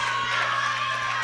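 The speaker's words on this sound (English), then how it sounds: "lots of support here from the home crowd" Home crowd cheering and shouting loudly at a world sub-junior and junior equipped powerlifting championship, a dense, continuous roar filling a brief burst.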